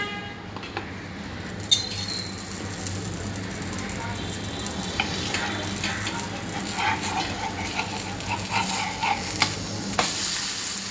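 A ragi (finger millet) dosa cooks on a pan with ghee or oil, producing a continuous loud sizzle with scraping and occasional sharp clicks of a spatula, intensifying toward the end.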